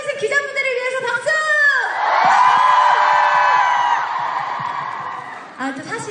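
At a concert in Seoul, a loud arena audience bursts into sustained cheering and screaming that swells, then fades; a host's amplified voice speaks at the start and end.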